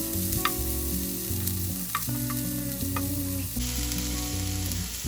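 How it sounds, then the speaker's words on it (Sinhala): Chopped onions frying in hot oil while vegetables are prepared for instant noodles: a continuous close sizzle broken by occasional scraping stirs, with soft instrumental music underneath and no talk. "ඒ ටිකක් බැදෙනකොට කපාගත්තු ලුණු ටික එකතු කරගන්න. ඒකත් මේ විදිහට කලවම් කරමින් ටිකක් බැදෙන්න තියන්න."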